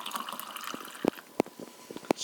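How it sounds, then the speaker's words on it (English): Faint trickling of steaming hot water poured into a cup, punctuated by a few soft plopping splashes, quiet and close with no voices. "Pour the water in there."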